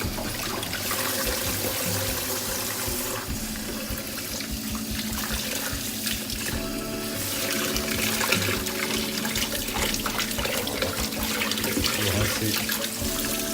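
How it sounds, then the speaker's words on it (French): Cold tap water runs steadily over milk kefir grains being rinsed in a sieve, a continuous close splashing stream that swells slightly as the flow shifts, with no talking. "vous le rincez à l'eau froide"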